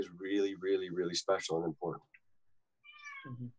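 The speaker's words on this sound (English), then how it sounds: "I was laughing at the cat meowing." A cat gives a short, faint meow in the background just after a person finishes speaking in a small room.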